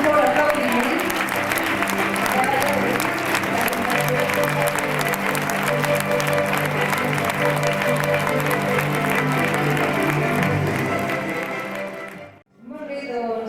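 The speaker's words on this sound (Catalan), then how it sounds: "així que un fort aplaudiment" Audience at an award ceremony for a national paper-costume contest applauds loudly and steadily for about twelve seconds, then the clapping cuts off abruptly and a voice begins.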